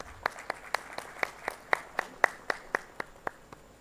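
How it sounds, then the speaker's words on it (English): Audience applause at a textile industry launch event in Bhubaneswar, heard as a steady series of about fourteen sharp, evenly spaced claps at moderate distance, with no talking over them. "A big round of applause for that."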